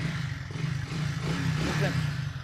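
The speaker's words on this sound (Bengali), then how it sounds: "গাড়ি সেলফে টোকায় টোকায় স্টার্ট হবে" A used motorcycle's engine runs with a steady low throb that holds through the whole stretch, while someone talks over it.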